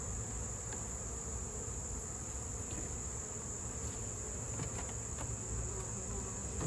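Honeybees in an open hive during an early September inspection make a steady, dense buzzing drone, close and continuous, with no one talking.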